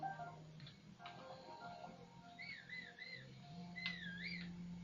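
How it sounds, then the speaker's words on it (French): Whistling in the video game The Legend of Zelda: Breath of the Wild, two short, faint warbling phrases over quiet game ambience and a low sustained tone. "On a sifflé, hein"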